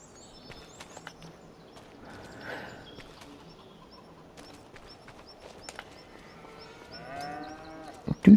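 Quiet farmyard sounds from the video game Farming Simulator 25, with occasional scattered sheep bleats, a rising animal call near the end, and a few soft thumps and footsteps, without anyone talking.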